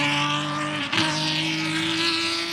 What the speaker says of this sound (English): Gosh, that car makes such great sounds.